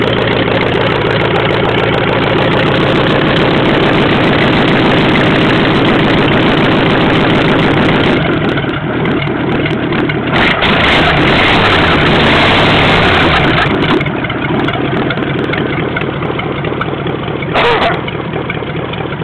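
A Ford flathead V8 idles steadily after a cold start, a loud, continuous low rumble with a rough, even pulse and no pause, close up.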